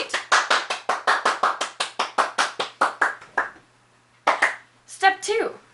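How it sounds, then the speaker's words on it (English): A small group claps in rhythmic unison, about a dozen sharp, evenly spaced claps close by, then a pause, a couple more claps and a short burst of cheering voices at the end. "We clap for Madame Le Petite."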